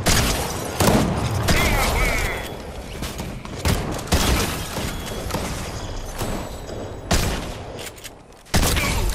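Gunfire in the video game Fortnite, with repeated sharp shots and bursts spread across the stretch, some loud and close, mixed with game clatter and occasional voices.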